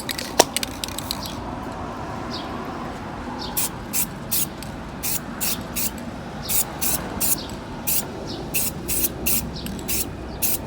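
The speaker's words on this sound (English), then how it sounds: "we're going to add another layer of clear coat" Clear coat is sprayed from an aerosol can onto a gauge cluster part from a 1996–2000 Honda Civic, coming as a series of short hissing bursts in a regular rhythm, close and fairly loud.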